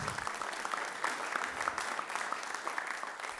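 Audience applause at an animal shelter fundraising campaign event, a dense crowd of hands clapping steadily and fairly loudly, alone without speech.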